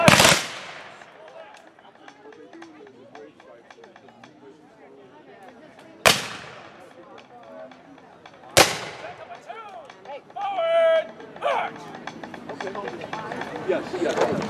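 Loud gunfire volleys at a country fair reenactment: three sharp, echoing blasts several seconds apart, followed by rumbling decay. Between the shots there is scattered crowd noise and some voices.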